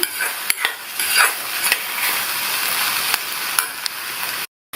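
A spoon scrapes and stirs a ridge gourd stir-fry with cumin in a pan: steady scraping and soft clinks with a few sharper knocks against the metal, close by, then a short silence at the end.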